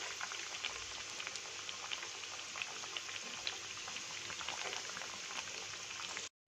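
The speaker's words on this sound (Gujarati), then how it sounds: "બંને બાજુથી આપણે સારી રીતે આને પલટાવી અને ફ્રાય કરી લઈશું." Kothmir vadi, coriander fritters, fry in hot oil with a dense, steady crackling bubble that stays even and close throughout, without speech, before cutting off abruptly at the end.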